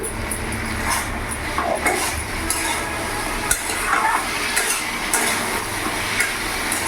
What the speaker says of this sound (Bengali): এবার ভালো করে আমি নাড়াচাড়া করে একটু কষিয়ে নেব